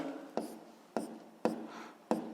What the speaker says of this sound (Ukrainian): Ну що ж, е, записуємо відповідь.